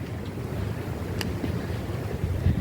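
Steady low rumbling cold wind gusts buffet the microphone continuously on a rooftop at a university in Taiwan, with a faint brief higher tone near the middle.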